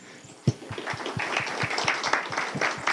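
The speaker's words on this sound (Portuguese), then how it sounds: "eu queria dar uma salva de palmas a vocês, porque vocês merecem." An audience at a professional development talk claps, a sharp opening clap followed by a steady run of rhythmic, moderately close hand claps that continues to the end.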